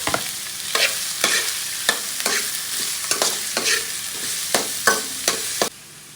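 Onion and garlic fry in hot cooking oil with a steady, bright sizzle, broken by regular scraping stirs about every half second; the sound stays close and fairly loud, with no talk.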